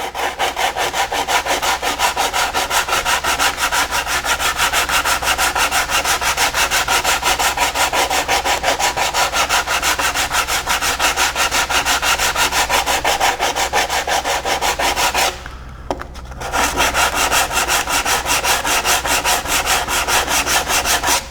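Bondo filler on a racing shell is sanded by hand with 100-grit sandpaper, giving a loud, rapid, continuous rasping scrub with a brief pause near the end before resuming.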